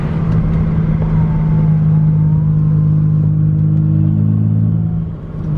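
A BMW E30 fitted with an M50 engine and a full 3-inch exhaust rumbles and revs steadily up close, a deep continuous engine drone that eases off near the end, with no one talking.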